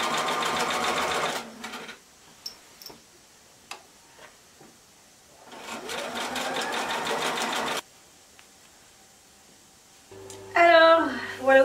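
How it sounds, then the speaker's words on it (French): A sewing machine stitches a coat sleeve about 1 cm from the edge, running in two sustained bursts of rapid mechanical whirring separated by quiet pauses with small clicks, close and fairly loud. "je vais simplement venir faire une piqûre à 1 cm du bord tout le tour"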